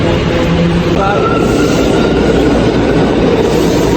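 A New York A train rumbles and clatters loudly and steadily along the subway track, a dense, continuous roar with faint voices mixed in.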